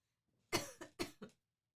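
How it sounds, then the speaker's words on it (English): Two quick bursts of coughing, each a sharp hack followed by a smaller one, close and clear against near silence. "COVID, don't cough on me, please."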